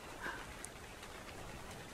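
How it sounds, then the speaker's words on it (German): Rain in the game ARK Survival Evolved, a faint steady hiss of falling drops with soft scattered patter, continuous and without voices. "Scheiß Regen."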